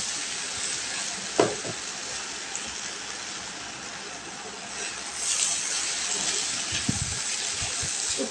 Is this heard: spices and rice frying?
yes